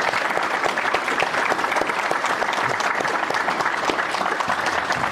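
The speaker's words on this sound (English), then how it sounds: "Let's give the 16th SMA a big round of applause." Audience applause at a LANPAC 2023 conference session, a steady, dense wash of clapping from a large crowd that continues at an even level throughout.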